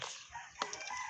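Chicken clucks in the Minecraft video game, one brief cluck-like burst standing out from a continuous hissing game backdrop.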